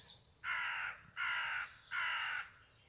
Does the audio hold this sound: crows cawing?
yes